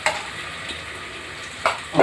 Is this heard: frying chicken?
yes